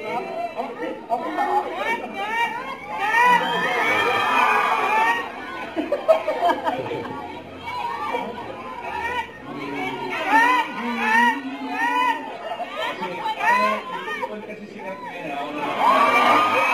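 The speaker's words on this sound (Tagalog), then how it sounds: "Sigaw ng mga fans." Fans at a meet and greet in Dubai Mall shout and cheer in a dense crowd roar, many overlapping voices with high excited screams rising and falling continuously, loud and close throughout.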